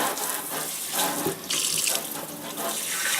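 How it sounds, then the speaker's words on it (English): Tap water runs steadily into a sink, rinsing it out after hats and gloves were washed with OxiClean. The flow is close and continuous, with a brief dip and then a fuller gush, and no voices. "just rinse the sink out thoroughly"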